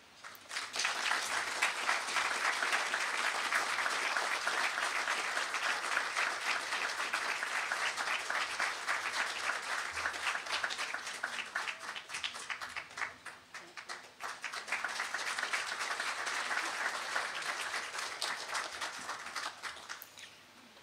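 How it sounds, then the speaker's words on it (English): Sustained audience applause at a teaching excellence awards ceremony, dense clapping lasting about twenty seconds with a slight dip midway before swelling again. "Another round of applause for all of these finalists for the Charlotte Teaching Excellence Award."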